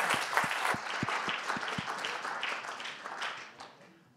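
Applause from the audience at an innovation fellowship final pitch event in Vietnam, dense and sustained with a few sharp near claps at the start, fading out toward the end.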